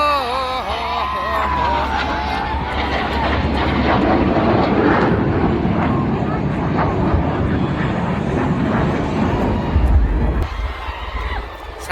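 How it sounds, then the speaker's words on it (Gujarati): Propeller airplanes roar low overhead at an air show by Atal Sarovar, the engines droning and rising in pitch as they pass close and loud, with a crowd murmuring underneath. "ઓહો ગાઈસ આવી રહ્યા છે અત્યારે પ્લેન."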